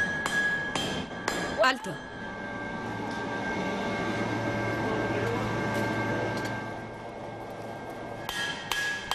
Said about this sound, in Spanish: El martilleo continuado aplasta y endurece el cobre